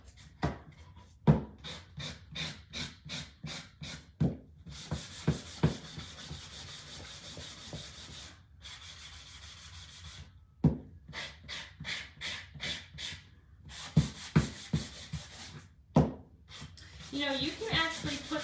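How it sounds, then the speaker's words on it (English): Wooden book stack blocks being sanded by hand, giving repeated short scraping rubs in bursts with brief pauses, close and moderately loud. "Sand these down a little bit."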